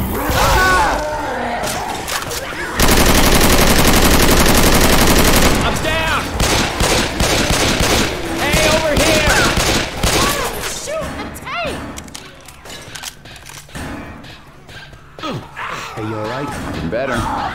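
Heavy automatic gunfire from a Left 4 Dead 2 firefight against a Tank, a dense sustained burst loud in the middle, followed by scattered shots and thuds, with voices talking throughout.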